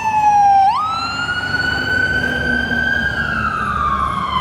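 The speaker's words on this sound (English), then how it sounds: "every time I freaking do a freaking thing outside, there's always an ambulance" A loud, close siren holds a steady wailing tone, sweeping upward sharply at the start and then slowly drifting down.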